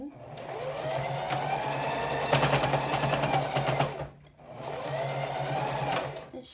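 A sewing machine top stitching a PWP fabric mask runs steadily and close for about four seconds, pauses briefly, then starts up again with the same even mechanical whir.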